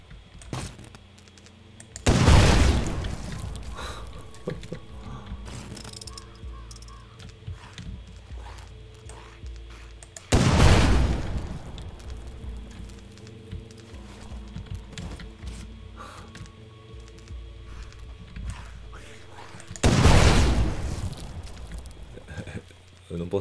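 RPG rockets exploding in the PC game The Last Stand: Aftermath: three heavy, booming blasts spaced several seconds apart, each loud and sudden against steady game ambience, with a voice talking faintly between them.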